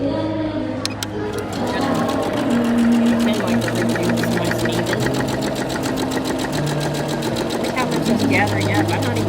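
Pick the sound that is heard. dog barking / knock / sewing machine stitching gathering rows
sewing machine stitching gathering rows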